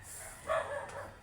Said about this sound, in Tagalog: Ang maingay lang dito ay puro aso.